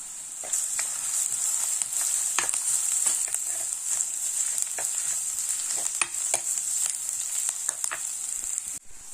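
Chopped onions and ginger sauté with curry leaves in a pan for a fish curry, giving a bright, constant high sizzle with repeated crisp scraping strokes of a spoon throughout, near and clear, no voices.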